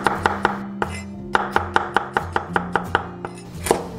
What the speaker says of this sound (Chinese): 大蒜切片